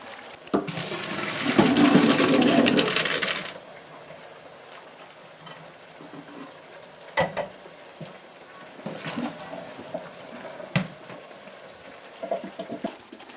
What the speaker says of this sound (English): our noodles finished boiling here. So Molly's gonna strain that here now for us.